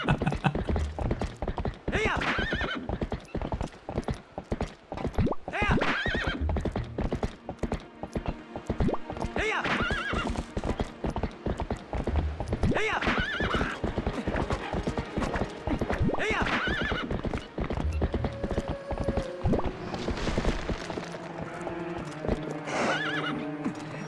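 Horse hooves clip-clopping at a rhythmic gallop with neighs and whinnies in The Legend of Zelda: Twilight Princess, close and busy alongside mechanical game effects, easing toward the end.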